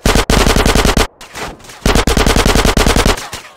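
Automatic gunfire in the video game GTA San Andreas Definitive Edition: loud, rapid machine-gun bursts that break off for about a second, then resume in another hammering volley.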